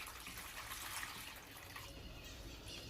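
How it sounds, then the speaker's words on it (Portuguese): Water pours from a tap into a bowl in a kitchen, about a liter for soaking collard greens, a steady, faint, continuous splashing rush with no talk over it. "Simplesmente nós vamos colocar 1 litro de água numa vasilha"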